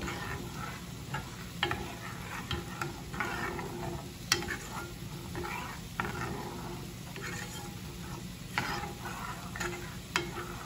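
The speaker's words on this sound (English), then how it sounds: "dash of nutmeg, stir this up" Sauce seasoned with pepper and nutmeg stirred in a pan for a fettuccine dinner, with steady scraping and sloshing strokes and a few sharp utensil taps against the pan, low-level and continuous.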